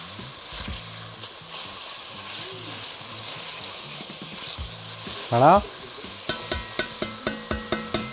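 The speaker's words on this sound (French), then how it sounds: "Donc là, on fait bien colorer les bouts de poulet." Chicken pieces sizzle and fry steadily in a casserole pot already used for onions, with occasional stirring clatter and a series of regular tapping knocks near the end; someone speaks briefly.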